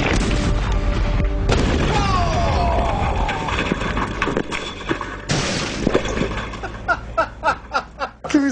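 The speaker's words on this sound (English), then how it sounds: "when the hot water heater finally blows" A hot water heater blows with a deep, heavy boom and roaring aftermath, then a second loud burst follows; laughter and rhythmic chuckling rise near the end.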